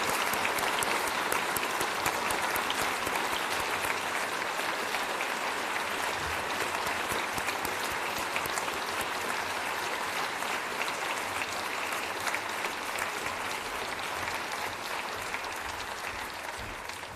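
An audience at an honours investiture ceremony applauds the award recipients, dense continuous clapping from a large crowd that holds steady for the whole stretch, with no speech over it.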